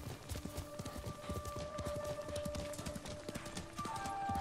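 Steady clip-clop of horse hooves trotting at a quick, regular rhythm in the video game Ghost of Tsushima, fairly close, with a faint tonal hum in the background.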